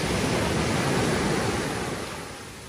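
Ocean surf breaking on the Portuguese coast, a steady loud broadband wash that eases slightly toward the end, with no voices.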